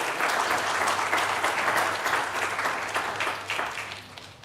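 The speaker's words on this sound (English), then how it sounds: "please, another round of applause for our fantastic musicians that we've had here today" Audience at a veteran and small business trade show summit gives a round of applause for Marine Corps musicians, steady dense clapping throughout, fading slightly toward the end.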